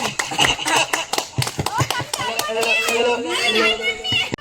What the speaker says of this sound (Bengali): হাততালি দাও, হাততালি